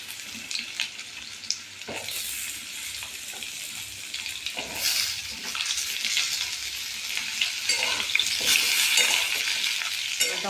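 Potatoes and pointed gourd sizzling in a pan, turned over by a spatula with irregular scraping strokes, a close continuous crackle that grows a little busier toward the end and has no voices.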